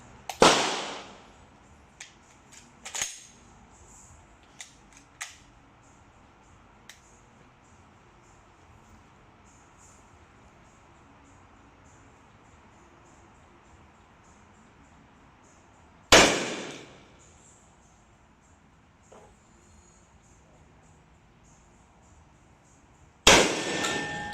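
Three loud, sharp blasts from an A5 shotgun firing no. 9 shot, heard outdoors at a range. They come near the start, mid-way and at the end, with faint clicks and handling noise between them.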